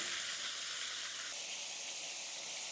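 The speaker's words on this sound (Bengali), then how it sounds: "এখন টমেটো একটু ভালো করে ভেজে নেব।" Chopped tomatoes fry in a pan, giving a steady, faint, close hiss of sizzling. Midway through, a low hum drops out and the hiss brightens slightly.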